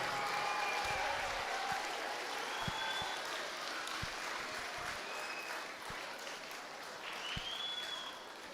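Steady applause from a school audience at a Stella Maris College event in Malta, sustained even clapping throughout with faint whistles and a few louder individual claps standing out.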